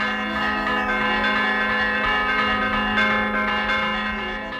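A church bell in Sardinia rings with a sustained, resonant tone, one loud stroke humming and ringing out for the whole stretch with no other sounds.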